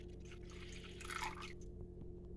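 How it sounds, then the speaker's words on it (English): Water being poured into a baking dish around ramekins of pumpkin crème brûlée custard to make a water bath, a soft steady trickle and splash that swells midway and then eases off, with no talking. "take water and pour water into here until you get about halfway up the ramekins"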